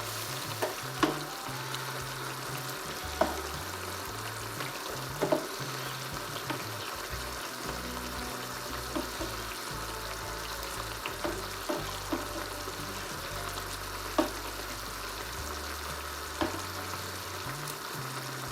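A pot of tomato sauce bubbles and sizzles steadily at close range, with occasional soft pops and clicks over a constant simmer.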